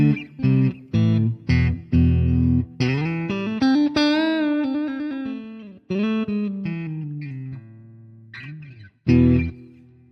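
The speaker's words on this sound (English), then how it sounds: "listen to the guitar a little bit and see what she sounds like" A Fender Stratocaster electric guitar is played through effects, with plucked notes and chords, some sliding bends and sustained ringing tones, fairly loud and alone with no talk.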